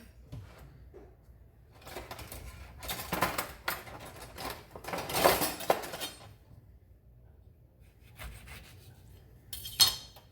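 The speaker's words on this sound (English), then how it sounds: "I'm going to roll this lemon. Cut it in half." A lemon rolled against a kitchen counter and then sliced in half with a knife while making blueberry cobbler, heard as soft rubbing and scraping followed by a few sharper cutting and knocking sounds, close and unaccompanied by talk.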